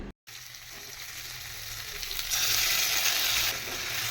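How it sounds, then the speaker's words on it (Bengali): Potato pieces fry in hot oil in a home kitchen, a close, steady sizzle that starts after a brief silence and grows slightly louder partway through. "এখন আলুটা দিয়ে একটু আলুটাকে ভাজা করে নেব"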